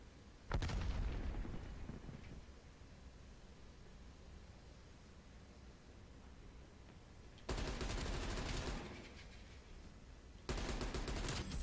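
Gunfire bursts ring out in a first-person shooter match: a loud volley opens, then a low steady rumble of background battle, followed by two more dense, sharp bursts of shots near the end.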